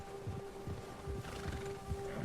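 A horse in Red Dead Redemption 2 gives a short neigh over soft hoofbeats, close and moderately loud against a steady droning game background.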